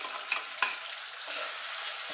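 Ground spice paste is added to onions fried reddish-brown in a pan for egg curry. Two quick taps lead into a sudden, louder steady sizzle that carries on alone, close by.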